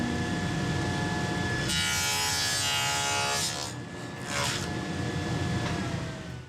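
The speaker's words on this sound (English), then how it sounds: "We're going to cut a slot here." A saw cuts a box joint slot in a wooden workpiece guided by a shop-made jig, a loud rasping cut of about two seconds over a steady machine drone, followed by a shorter second pass.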